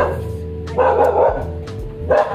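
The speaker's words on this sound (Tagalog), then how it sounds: "yung aso ko nandito sa kwarto ko, kaya may tahol. Tumatahol." A dog barks in short bursts, a few sharp woofs close by, over a low steady hum in a small room.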